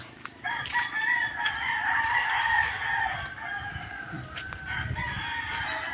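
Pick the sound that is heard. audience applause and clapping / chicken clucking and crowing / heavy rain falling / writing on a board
chicken clucking and crowing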